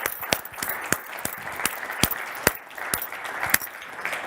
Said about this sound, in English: Can we show a round of applause for our panellists,